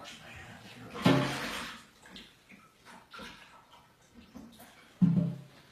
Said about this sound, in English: I'm just gonna wash my hands